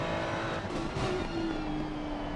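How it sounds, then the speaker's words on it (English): A Ferrari V6 racing car downshifting and over-revving, a loud close engine howl with shifting tones and a rising whine, continuous throughout. "Fantastic noises from the prancing horse as it downshifts. Savage as it over revs that V6."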